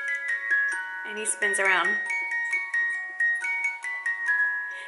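A wind-up Mickey Mouse snow globe plays a tinkling music-box tune, with a steady plucked melody running throughout and a voice briefly speaking over it.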